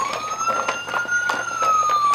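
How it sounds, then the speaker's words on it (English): A siren wails continuously with a steady, gently rising and falling tone, close and fairly loud, accompanied by faint rhythmic tapping in the background. "Did you turn the siren on?"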